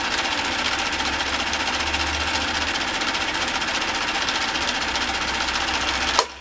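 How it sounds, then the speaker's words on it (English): A Husqvarna Viking sewing machine runs at a smooth, even speed with a continuous close mechanical whir and fine rapid stitching rhythm, then stops abruptly just before the end. "listen to how beautiful this machine runs"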